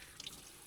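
Water running through the bypass valve of a home water filtration system, a faint, steady hiss and splash heard close by with no talk over it.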